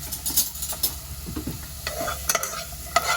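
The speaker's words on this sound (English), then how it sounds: "Use a little spoon just to mix it around." Sliced onions fry in a thin layer of oil with a steady sizzle, while a spoon scrapes and stirs them in short, irregular strokes close by.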